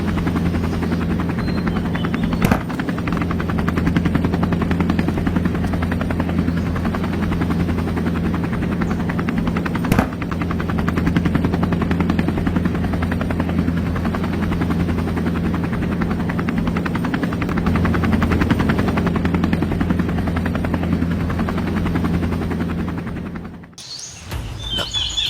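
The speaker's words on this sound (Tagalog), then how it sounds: "Helikopter?" A helicopter flies close by, its loud, steady rotor drone running without a break for about 23 seconds before cutting off abruptly. Faint bird chirps sit under the engine noise.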